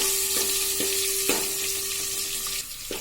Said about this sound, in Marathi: कांदा थोडासा परतून घेऊया।